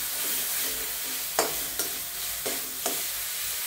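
Masala being stir-fried in a pan for potato aamti: a steady low sizzle runs throughout, broken by four sharp spoon scrapes and knocks against the pan at fairly even intervals.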